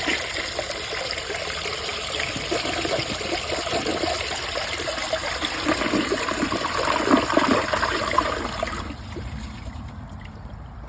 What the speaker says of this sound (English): But here's a close-up flush.